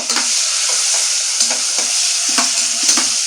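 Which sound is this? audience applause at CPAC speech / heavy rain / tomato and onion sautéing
tomato and onion sautéing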